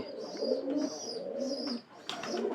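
A pigeon coos in low, rolling phrases, close and fairly quiet, with a couple of brighter chirps near the end.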